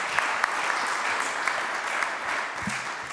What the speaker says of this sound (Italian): un applauso a Francesca Meneghin.